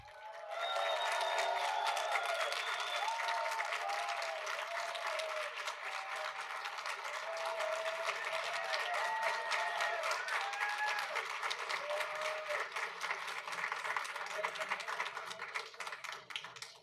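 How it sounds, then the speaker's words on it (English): A board of education meeting audience applauds an honoree for about seventeen seconds, a steady wash of many hands clapping at moderate distance, with some tonal background sound running underneath. "Let's give a very warm round of applause for Alan Reyes Alba."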